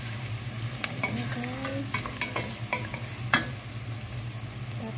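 Food sizzles in a frying pan while a spoon stirs it in a steady scraping rhythm, close and clear, with a few brief clinks and a short spoken interjection over the hiss.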